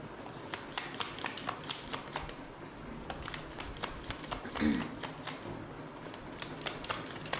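Tarot cards shuffled by hand in a steady run of crisp riffling flicks and soft slaps, close and fairly quiet, with a brief low murmur partway through.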